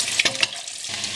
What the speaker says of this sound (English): Just going to fry them a little bit longer.